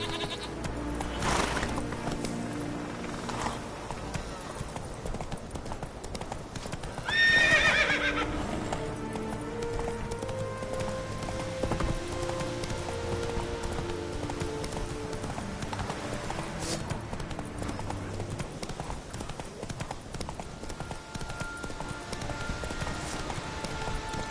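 Horse hooves clip-clop steadily at a gallop in The Witcher 3 video game, with a loud neigh partway through over constant game ambience and no speech.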